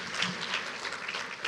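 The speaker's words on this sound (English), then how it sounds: "let's welcome her with a round of applause" An audience at an education plenary applauds a virtual speaker, with a brief, steady wash of moderately quiet clapping throughout.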